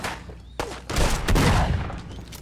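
Shotgun blasts in Fallout 4, a few sharp, loud shots in quick succession with rumbling echo and combat clatter, no talking.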